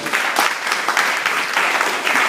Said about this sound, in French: On peut acclamer pour la parole du Seigneur